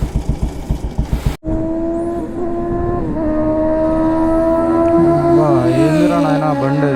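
A fast thumping engine beat is cut off by a sharp knock, then a loud vehicle engine drones on the road and climbs steadily in pitch as it speeds past close by.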